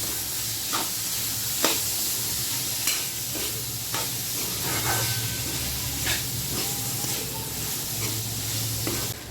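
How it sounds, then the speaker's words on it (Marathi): Whole masoor lentils, soaked beforehand, are stirred through spiced oil in a pan. A steady sizzle and frying hiss runs throughout, broken by repeated scraping strokes of the spoon roughly every second. "आता आपण भिजवून घेतलेला आहे अख्खा मसूर घालायचा आहे छान असं हलवून घ्यायचं आहे"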